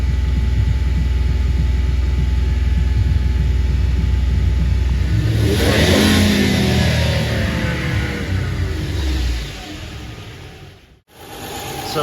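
A car engine revs up on a crankshaft position sensor test setup, a loud rising rumble and whine that swells, then drops away with a brief cutout before resuming.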